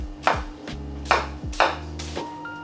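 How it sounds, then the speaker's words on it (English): Kitchen knife slicing through cabbage into finger-thick pieces for kimchi: four crisp, evenly spaced chops on a cutting board, each a sharp crunch ringing briefly, close and clear with no talk. "And then we slice it in about finger-thick slices."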